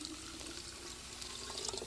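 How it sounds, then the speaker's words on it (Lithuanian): Water poured into a glass jar of rinsed sprouted grain to start rejuvelac, a steady splashing pour that runs throughout, fairly quiet and without any talk. "Ir dabar pilame vandenį, kad padarytume redživelaką."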